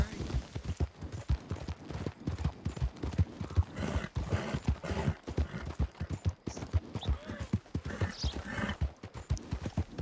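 Rapid clopping of horse hooves in Red Dead Redemption 2 continues steadily throughout, close and fairly loud, with brief voices mixed in.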